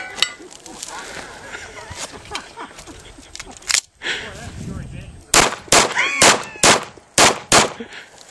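A rapid string of sharp, close gunshots at a practical shooting competition stage, about eight evenly spaced cracks near the end, after quieter background shuffling and voices.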